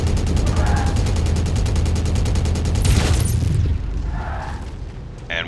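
Heavy mech weapons hammer out a dense, rapid barrage in MechWarrior 5 Mercenaries arena combat, loud and continuous with booming impacts, then the fire cuts back to a lower rumble near the end.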